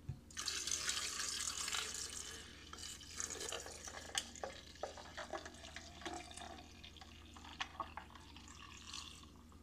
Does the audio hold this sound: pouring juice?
yes